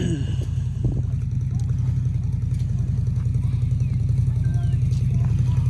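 A 2021 CFMOTO Z950 side-by-side runs in low range, its engine a loud, steady low rumble with a throbbing pulse, heard up close with a brief voice near the start.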